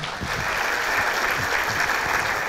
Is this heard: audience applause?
yes